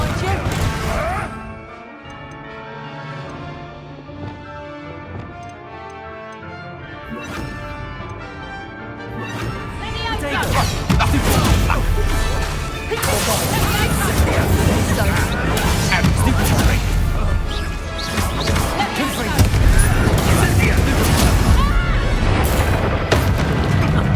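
Fiery Confringo spell blasts in the Hogwarts Legacy video game, a run of loud crashing booms and smashes that build in the second half over a busy combat soundscape.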